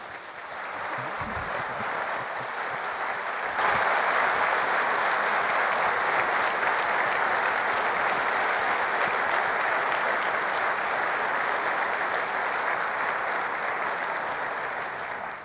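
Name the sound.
audience applause for the panel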